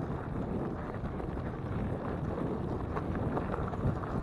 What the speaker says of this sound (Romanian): vântul bate foarte tare